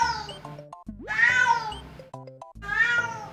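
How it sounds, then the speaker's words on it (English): A cat lets out three clear, drawn-out meows in quick succession, loud and close, with stepped electronic game-music tones beneath. "Meow. Meow. Meow."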